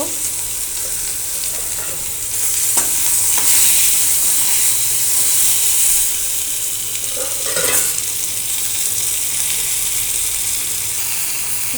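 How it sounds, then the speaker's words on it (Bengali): Potol (pointed gourds), peeled and rubbed with salt and turmeric, frying in a pan for dorma: a steady, loud sizzle with occasional stirring scrapes and brief spatters, no voices. "সবগুলি পটল ভালো করে ভেজে নিচ্ছি"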